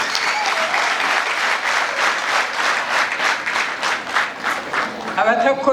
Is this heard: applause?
yes